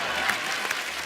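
Studio audience applause on a Hindi television comedy show greets a singer, a brief, dense burst of many hands clapping at moderate loudness with no voices over it.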